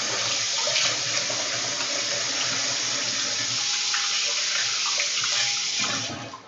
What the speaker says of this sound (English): Once again, wash my hands because I touched the raw egg.